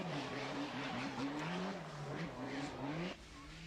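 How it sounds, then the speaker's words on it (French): A Nissan GTI-R rally car races at the 1992 Boucles de Spa, its engine note rising and falling through repeated revs and gear changes at a moderate distance, ending in a sudden drop in sound. "Champion du monde groupe N, pilote prioritaire de Mévius découvre la Nissan GTI-R."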